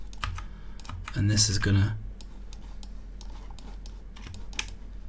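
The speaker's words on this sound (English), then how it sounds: "we use Control E on the keyboard and we just mark seams" Key clicks on a computer keyboard during a Blender 2.8 UV unwrapping session, a steady run of light taps spread across the clip while someone talks briefly over them near the start.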